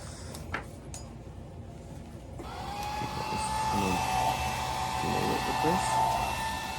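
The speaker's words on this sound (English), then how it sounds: "this is a hair dryer, but he's using the fan thing, so it's not actually blowing here, it's just blowing air." Hair dryer running on its cool fan setting to blow dust out of an opened Xbox, a steady whirring airflow that starts after a couple of seconds and continues, with some light clinks and talk around it.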